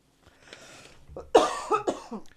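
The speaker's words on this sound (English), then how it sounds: "Just can't get rid of this cough." A single rough cough rings out after a faint breathy lead-in, followed by a couple of smaller throat-clearing coughs, close and fairly quiet.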